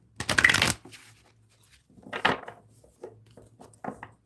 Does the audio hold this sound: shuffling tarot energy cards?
yes